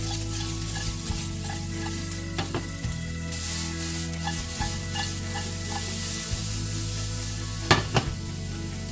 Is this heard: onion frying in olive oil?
yes